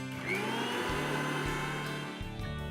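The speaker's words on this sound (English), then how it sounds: "Take 1 cup of fresh coriander leaves and put it in a blender" An electric blender whirs at high speed, churning fresh coriander leaves with a little water, a loud, close motor whine whose pitch drops and steps back up several times as the load shifts.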